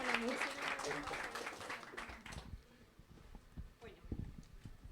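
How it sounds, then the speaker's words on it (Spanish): An audience at a women writers' café event claps for about two and a half seconds, a moderately loud burst that then dies away into quiet room sounds and a few scattered noises. "Un aplauso para todas estas bellas mujeres que nos acompañan"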